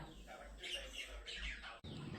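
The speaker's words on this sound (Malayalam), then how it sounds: "ഇതാണ് ഇവിടുത്തെ വഴക്കാളി കിളികൾ" A few small birds chirp and squawk close by, in short busy bursts over a low hum, faint overall, with no talk.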